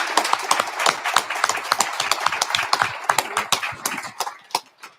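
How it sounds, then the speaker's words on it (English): An audience at a university speaker series event claps as a talk ends, with a smaller group giving sparse, distinct hand claps that thin out toward the finish. "Can we give Richard Denenny a big Eastern round of applause?"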